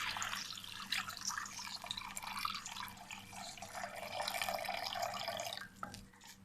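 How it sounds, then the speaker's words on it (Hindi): Two glasses of water poured into a khichdi pot over fried onion, ginger and garlic, a steady close splashing pour with drips, no talking. "अब हम इसमें डाल देंगे 2 गिलास पानी।"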